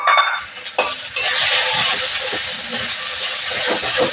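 Ground spice paste frying in a pan of hot oil with mustard seeds, asafoetida and curry leaves for a South Indian dish, giving a steady close sizzle and hiss with a few stirring clatters, no talk.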